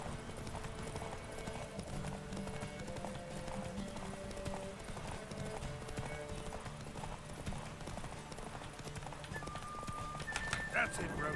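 Horse hooves clip-clop steadily as the mount Roach gallops in The Witcher 3 video game, a continuous rhythmic beat with an occasional whinny, while someone talks over it.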